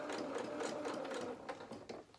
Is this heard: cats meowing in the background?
no